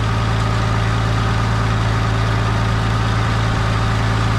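A Farmall 560 tractor engine runs at a steady, loud, low idle, a constant throbbing rumble with no voices.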